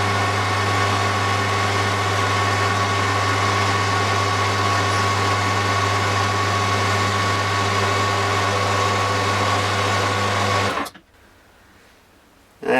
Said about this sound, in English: I've got a lathe file here, and I'm just using this to dress these surfaces